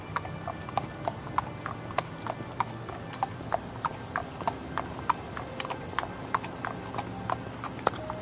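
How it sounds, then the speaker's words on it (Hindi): A horse ridden at speed by a messenger gives steady, rhythmic clip-clop hoofbeats, several a second, evenly spaced and moderately close. No voices are heard. "संदेशवाहक घोड़े पर सवार होकर आश्रम की ओर तेज गति से रवाना होता है।"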